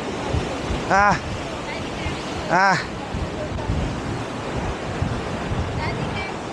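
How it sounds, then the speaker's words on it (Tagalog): Strong wind sweeps across North Beach in Pagudpud with rough surf behind it, a constant loud buffeting roar. Brief exclamations from people on the beach cut through it twice. "Mahangin"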